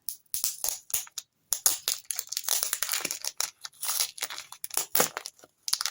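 A paper surprise packet is opened by hand, with close, brisk bursts of crinkling, crumpling and tearing paper in irregular rapid spurts separated by brief pauses.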